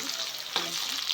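Soaked, squeezed meal maker soy chunks frying in a hot pan, a steady close sizzle with a brief stirring scrape partway through, no talking.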